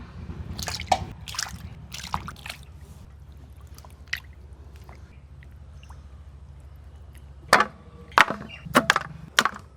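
Meat is rinsed with water, bringing a few close splashes and sloshes, then a stretch of faint dripping and trickling, then a burst of louder handling splashes near the end.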